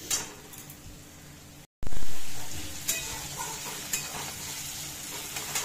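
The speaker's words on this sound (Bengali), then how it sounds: "দেখো বেশ ভাজা ভাজা করে নিচ্ছি।" Onion and potato fry in hot oil with a steady, close sizzle and occasional stirring scrapes, broken by a brief cut partway through; no one speaks.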